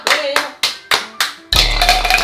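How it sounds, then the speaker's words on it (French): A few separate hand claps, then a sudden burst of dense group applause from several people, close and lively, during a bowling game played at a family dinner. "Léa, on applaudit."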